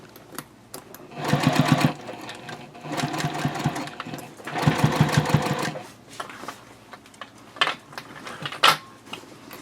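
A sewing machine stitches around the opening of a fabric bowler bag lining in bursts of rapid mechanical chatter, stopping and restarting several times, with small clicks and handling noises in the pauses.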